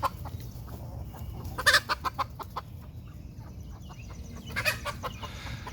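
Buff Orpington and Golden Comet chickens, a younger flock being combined with an older one, cluck steadily at close range, with two busier bursts of clucking and squawking as they sort out a pecking order.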